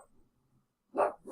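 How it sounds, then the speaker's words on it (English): A dog gives two close, loud barks after a quiet stretch, the second bark shorter and trailing off at the end. "That's just my dog there."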